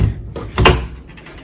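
A closet door in a one-bedroom hotel suite opens with a single firm knock and rattle midway, with soft room noise before and after.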